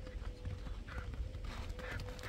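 Two racing horses gallop in a steady run of hoof clip-clops, fairly faint and distant, with crowd noise faintly beneath.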